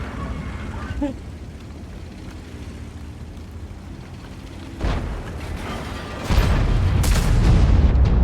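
A Kranvagn tank's cannon firing in World of Tanks, a couple of deep booming shots a second or so apart, the second heavier and sustained, with voices talking over the game.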